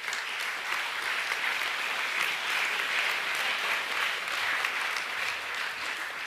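Applause from a school academic assembly audience honouring Year 7 performers: a dense, steady wash of clapping that fills the whole stretch with no voices over it.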